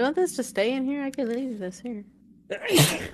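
A person talks briefly, then after a short pause lets out a single loud, close sneeze.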